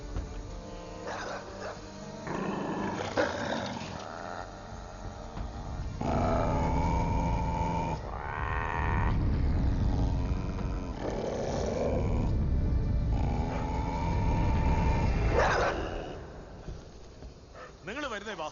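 Dogs growl in a tense Malayalam film scene, a low rumbling snarl that carries steadily for most of the stretch under louder voices and background sound.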